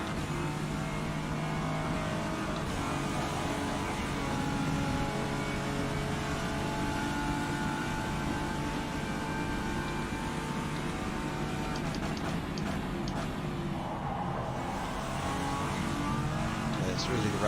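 LMP1 prototype race car engine in the rFactor 2 racing game at Road America, a raspy, steady engine drone that holds through the whole stretch with some revving, under game music and talk.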